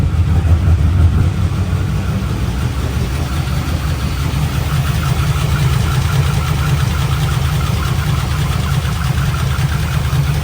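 A WS6 car engine, newly fitted with a fresh valvetrain, runs at a steady, rough idle close by, a continuous low rumble with a noisy, slightly knocking edge and no talking.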